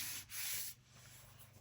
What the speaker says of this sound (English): just burnishing it down